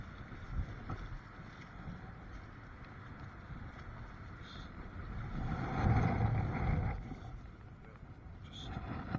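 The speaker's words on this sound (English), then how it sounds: "That wind's not eased off at all." Strong wind at sea on a small fishing boat working a shrimp beam net, a steady low gusting roar on the microphone with engine and hull noise, swelling for a few seconds in the middle.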